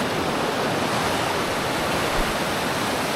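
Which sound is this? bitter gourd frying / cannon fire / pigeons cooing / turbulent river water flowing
turbulent river water flowing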